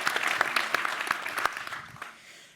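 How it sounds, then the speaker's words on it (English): Live audience at a space-politics event applauding a scientist, dense clapping that holds steady and then tapers off toward the end. "Please give her a round of applause."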